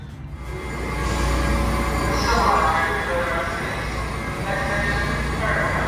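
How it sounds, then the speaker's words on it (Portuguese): A Washington DC subway train rumbles steadily with metallic rolling and faint squeals rising and falling, heard from inside or close by. "Tô aqui pegando o metrô pra ir até o Capitólio."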